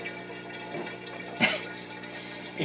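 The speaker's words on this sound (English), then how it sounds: "we're transferring water from our reservoir, I guess, of water into our carboy" Water pours from a reservoir into a carboy while durian wine is being made, a steady trickling flow with a few louder gurgling splashes, close by with no talk.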